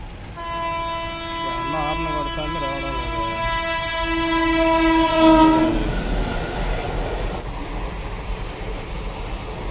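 A loud, sustained train horn blares for several seconds at a closed railway level crossing, then gives way to the rumbling clatter of rail cars passing close by.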